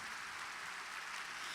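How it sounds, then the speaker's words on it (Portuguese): Church congregation applauding during a sermon, a soft, distant, even hiss of many hands clapping together without any talk over it. "Mas aplauda mesmo."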